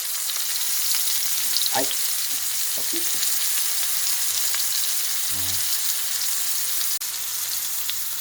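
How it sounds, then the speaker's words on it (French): Big Mac buns toast on a hot pan with a continuous steady sizzle and crackle, a few soft scrapes and taps breaking through, and a brief exclamation from a voice. "On commence à faire toaster les pains."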